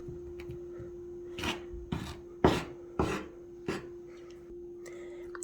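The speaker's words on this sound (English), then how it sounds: "so that you can totally grind up African dream seed" African dream seed is ground by hand, producing a few separate scraping, rasping strokes close up over a quiet steady hum, with short pauses between strokes.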